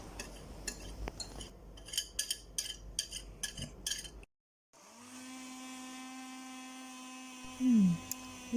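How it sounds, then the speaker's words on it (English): A blender whipping a Milo dalgona mixture. Its motor starts after some clinking and clattering, holds a steady droning whine, then briefly shifts pitch near the end. "I decided to use a blender."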